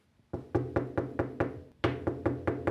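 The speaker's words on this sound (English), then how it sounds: "Knocking on the wall right next to my ear at 9 a.m." Someone knocks on a wall close by, two quick runs of firm, evenly spaced raps, about six then five, separated by a brief pause in an otherwise quiet room.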